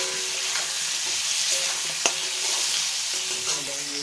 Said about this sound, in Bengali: পটলটা ভাজার সময় একটু নুন হলুদ দিয়ে ভাজলে পটলটা খুব সুন্দর ভাজা হবে